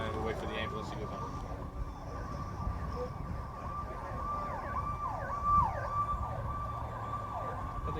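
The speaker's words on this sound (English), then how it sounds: "we'll wait for the ambulance to go by" An ambulance siren sweeps past outside a hospital zone in Salisbury, its rising and falling wail fairly loud over steady traffic rumble, with a brief swell midway as it goes by.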